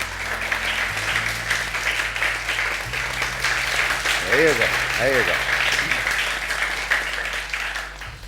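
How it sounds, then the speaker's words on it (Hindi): A television studio audience applauds for Indus Hospital during a Ramazan iftar show, steady clapping running throughout with a voice talking over it partway through. "सबसे पहले तो बहुत सारी तालियां बजाइए इंडस"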